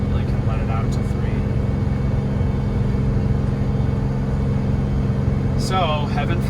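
A Jayco Seneca Super C RV climbs Monarch Pass at about 40 mph and 2,500 RPM, its engine a steady low rumble throughout while a person talks over it.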